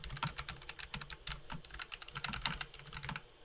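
Rapid, light keystrokes clatter steadily on a Logitech wireless computer keyboard, close up, with no talking; only the main keys make sound.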